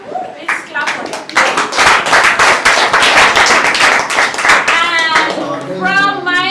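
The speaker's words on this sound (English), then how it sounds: "Please clap for them." An audience at a tech build event claps for two teams, a loud, close, dense burst of hands. Talk and a voice rise over it near the end.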